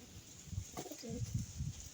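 Pet pigeons coo in a few soft, low pulses close by, quiet and brief with no other sound.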